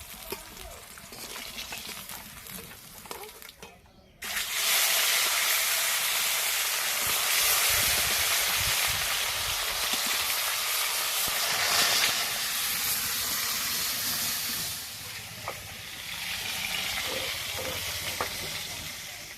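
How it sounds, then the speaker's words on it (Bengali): Mahseer river fish frying in oil in a village kitchen, a loud, steady broadband sizzle that jumps up sharply a few seconds in and keeps crackling with occasional stirring scrapes, with no talk over it. "দেখুন মাছ ভাজা হয়ে গেছে, একটু সুন্দর করে ভেজেছি আমি মাছটা"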